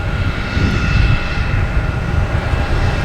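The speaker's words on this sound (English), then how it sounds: "next taking off will be a JetBlue, an A220, heading to Detroit" A JetBlue Airbus A220 jet taking off gives a loud, continuous roaring rumble with a steady high whine on top, holding strong throughout without pause.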